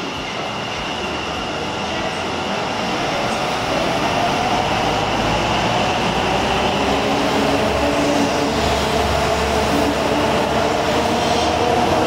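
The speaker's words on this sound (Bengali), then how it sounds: "শিয়ালদা যাওয়ার জন্য মেট্রো আসছে," A metro train bound for Sealdah pulls into Salt Lake station, a loud rising rumble of wheels and carriages that builds and holds steady, with no voices.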